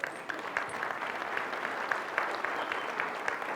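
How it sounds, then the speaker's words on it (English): An audience at a sales-pitch presentation applauds in a steady, even wash of many hands clapping, and the sound stays fairly quiet and distant across the room. "Let's give him a big round of applause."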